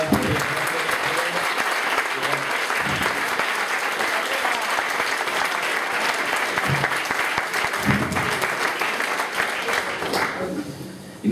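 Sustained applause from an audience at a campaign closing event, thanking volunteers; steady dense clapping lasting about eleven seconds, then tapering off at the end.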